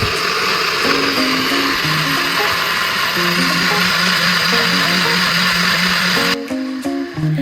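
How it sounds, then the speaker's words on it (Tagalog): A blender runs loud and steady, whirring through kimchi paste ingredients with shrimp paste and fish sauce, a constant motor roar with shifting pitch that cuts off abruptly near the end, leaving brief quieter clatter. "saka natin siya i-blend para makagawa tayo ng kimchi paste"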